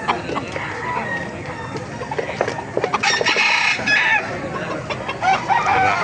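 Several chickens cluck and squawk nearby in irregular bursts, with one rooster-like call standing out.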